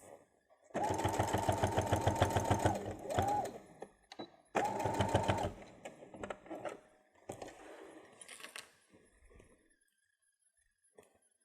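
A sewing machine back stitches over a seam on a travel pouch, two fast rattling bursts of stitching, close and steady, followed by handling clicks and quiet rustling.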